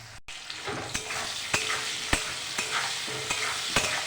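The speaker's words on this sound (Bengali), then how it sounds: "আলু দিয়ে দিয়েছি, আলুগুলোকে ভালো করে ভেজে নেব।" Peeled potatoes frying in oil with panch phoron, turmeric and salt, a steady sizzle under repeated scraping strokes of a spatula against the pan, close and fairly quiet, no voices.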